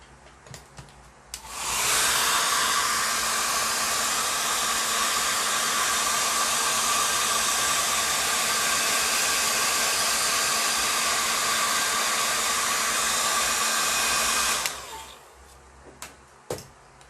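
A hair dryer switches on and runs steadily for about thirteen seconds to dry watercolor paint on paper, a loud close constant whoosh with a faint whine, then clicks off, with small handling noises before and after.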